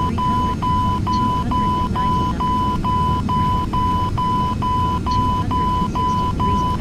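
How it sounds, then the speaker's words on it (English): A cockpit warning in a flight simulator game beeps steadily and rapidly at an even pitch, a long unbroken series of short tones over a constant loud engine drone. "Apologise for the beeping again, but I can't do much about it."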